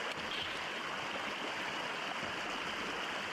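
A river rushes steadily past a gold prospecting sluice run somewhere in the United Kingdom, a dense, continuous wash of flowing water heard close and unbroken, with no voices.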